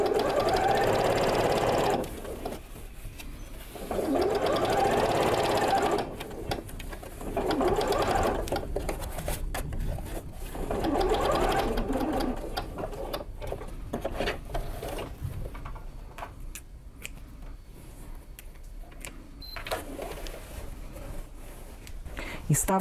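A sewing machine stitches a patchwork border in steady whirring runs of a few seconds each, close and clear, with pauses and quieter handling between runs and a voice talking at times.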